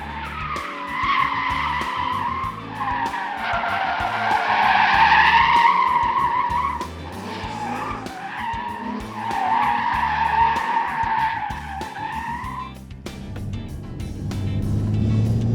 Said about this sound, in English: So then I went right to turn 1 to try to do some big drifts all the way both directions.